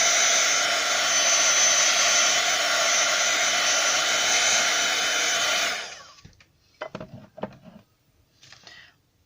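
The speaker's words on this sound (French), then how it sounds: "On va faire sécher rapidement au gun." Heat gun drying a stamped craft project: a steady, loud blowing whir runs for about six seconds and then cuts off, followed by a few faint handling knocks.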